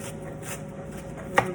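A knife chops cabbage into small slices with soft, steady back-and-forth strokes, close and fairly quiet, and one sharper knock on the board near the end.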